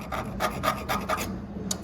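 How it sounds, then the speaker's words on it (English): A scribe drawn across a metal block in a workshop, a run of short scraping rasps repeating steadily, close and fairly quiet, followed by one brief sharper scrape. "Turn the block around, we will scribe the block."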